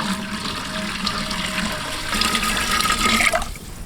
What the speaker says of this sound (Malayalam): അപ്പോൾ നമുക്കിതിലേക്ക് വെള്ളം ഒഴിച്ച് കൊടുക്കാവേ.